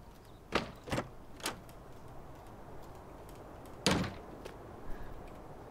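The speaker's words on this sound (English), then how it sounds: "We're going to open all the doors." Doors open in the video game Farming Simulator 19, heard as a few faint sharp clicks and clunks, two close together, then one louder knock later, over a quiet background.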